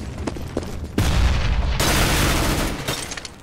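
A loud, close grenade blast in Counter-Strike: Global Offensive on the Dust II map, a heavy boom sustaining into a rumbling roar, with scattered gunshots before and after and no speech.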